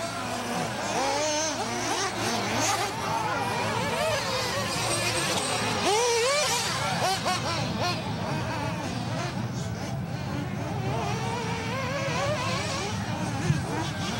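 RC race cars whine around the Whistle Stops racing track, their high buzzing engines rising and falling continuously over fourteen seconds beneath near-constant voices talking.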